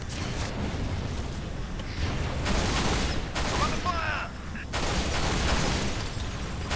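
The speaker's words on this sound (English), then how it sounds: "so 3 shots and we'll get a super explosion there with the needles" Needler fire and a supercombine explosion in the video game Halo Reach, a dense burst of rapid crackling shots and blasts under loud, continuous game noise, with short pauses.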